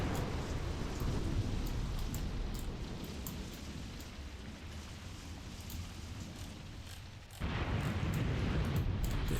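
Artillery explosions in the WWII tactics game Graviteam Tactics, heard as a continuous rumbling, crackling barrage with dense low booms. It eases off midway, then swells loud again near the end, with no talking.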